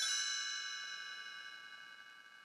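A single bright chime rings out and slowly fades, its clear metallic tones sustaining for a couple of seconds.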